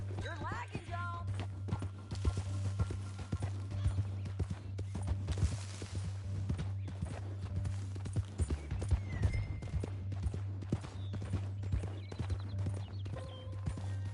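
Horse hooves clip-clop at a walking pace in the Western game Red Dead Redemption 2, a steady rhythmic clatter over a low humming bed, with faint background sounds throughout.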